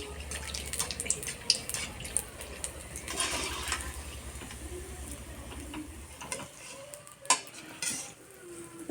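Malpua pitha batter frying in oil over low heat, a soft steady sizzle with faint stirring and utensil clinks, continuing at moderate level before fading near the end.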